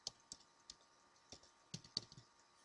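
Keystrokes on a computer keyboard while entering a search in Windows, a sparse, irregular run of light clicks, close and fairly quiet, with no talking.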